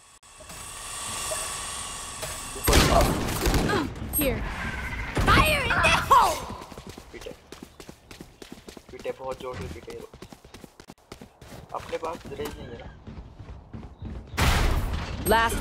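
Bursts of gunfire and other action sounds ring out in a multiplayer shooter video game, with rapid volleys and impacts mixed among announcer lines and voices talking throughout.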